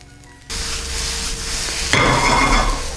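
Sausage and mushrooms sautéing in a pan for a quiche, a steady close sizzle that jumps louder partway through as food is stirred, with no talking.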